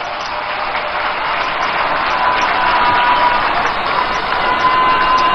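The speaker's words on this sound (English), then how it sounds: "let's give all of them a round of applause" Dense, steady applause from a large rally audience at the NDC 2024 manifesto launch in Ghana, a loud sustained wash of clapping that swells slightly and holds without a break.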